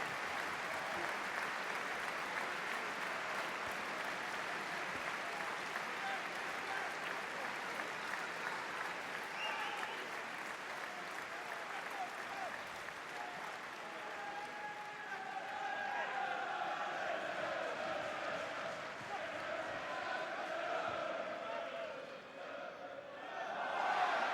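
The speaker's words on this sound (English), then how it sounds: "And Gillingham fans also applauding in memory of Peter Anderson." Gillingham football fans applauding in memory at a League One match against Sheffield United, a steady, sustained roar of stadium clapping that swells slightly toward the end.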